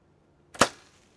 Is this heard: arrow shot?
yes